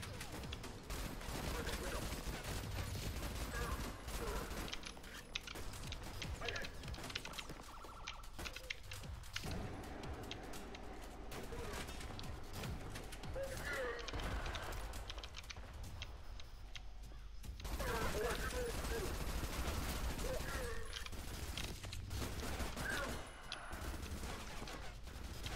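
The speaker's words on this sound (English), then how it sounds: "Who's shooting my friend?" Gunfire in the first-person shooter ADACA cracks in dense bursts over a steady backdrop of game noise and alarm-like sirens, loud and sustained through the whole stretch.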